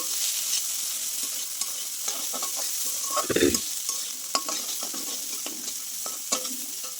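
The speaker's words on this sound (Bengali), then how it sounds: "আপনারা দেখতে পাচ্ছেন সবজিটা প্রায় ভাজা ভাজা হয়ে গেছে" Winter vegetables and peas stir-fry in a pan: a constant bright sizzle, scattered crackles, and one louder scrape of the spoon stirring through partway. Close, with no talk.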